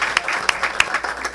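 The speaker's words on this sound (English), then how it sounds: "So big round of applause to everybody involved." A school district meeting audience gives a brief burst of applause, with scattered individual claps standing out rather than a dense roar.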